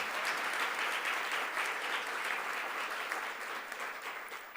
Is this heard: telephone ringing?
no